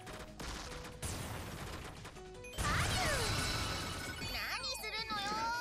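Dense gunfire and explosions from the shoot-'em-up video game Cotton Fantasy, with constant rapid shots, crashes and sweeping whooshing effects layered over game music, loud and continuous throughout.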